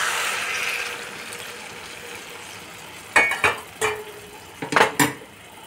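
Hot water is poured into a pot of rice cooking on the stove, a brief rushing hiss at first, followed by several sharp metallic clinks and scrapes of a spoon against the pot.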